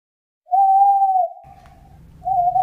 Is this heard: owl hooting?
yes